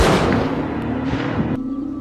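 A single gunshot in a forest thriller film, heard as one loud blast with a long rumbling decay, then a brief quieter tail.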